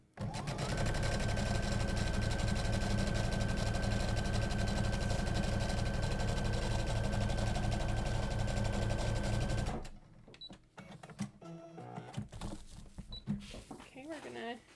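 A sewing machine runs steadily for about ten seconds, stitching a half-inch seam in a tote bag's lining with a loud, even motor drone. It then stops, leaving quieter handling noises and faint rustles.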